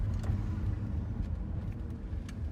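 A Lexus IS200 with an aftermarket exhaust cruising steadily, its low, even exhaust drone close and continuous with only faint road noise.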